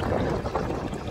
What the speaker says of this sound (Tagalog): biglang lumakas na po yung tubig natin